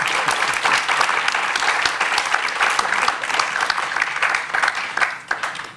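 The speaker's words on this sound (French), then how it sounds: "Peut-être un applaudissement" Audience applause at a talk on substantive democracy and care ethics: sustained, dense clapping from a crowd, loud and steady for about six seconds before tapering off at the end.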